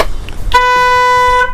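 The horn of a 2012 FS 230 Scappare motorboat gives one loud, steady, buzzy blast that starts a moment in and holds to the end, after a brief rustle of handling noise.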